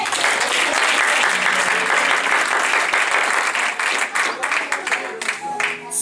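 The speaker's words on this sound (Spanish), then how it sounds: "Ahora denle un aplauso al Señor." A church congregation breaks into sustained, dense applause that fills the room at full strength, then thins and turns more uneven toward the end.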